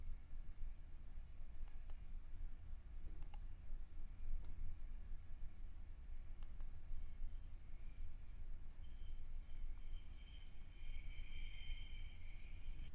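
A computer mouse gives a handful of short, sharp clicks, spaced a second or two apart, while changing settings in a cloud storage management console. A faint steady hum sits underneath and no one speaks.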